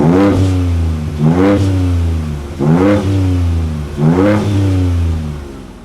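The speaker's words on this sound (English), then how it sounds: "and then you can also change the modes of your exhaust." Ford Ranger Raptor pickup with its 3.0-liter twin-turbo V6 blipped through the exhaust in four strong, evenly spaced revs, each rising and falling back to a steady idle, close and loud with no talking.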